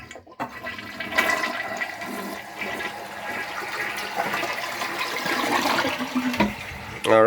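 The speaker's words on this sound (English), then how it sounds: "Nice good toilet flushing." A newly replaced toilet flushing, starting with a sharp click of the handle, then a loud, rushing swirl of water that builds and continues for several seconds, heard up close.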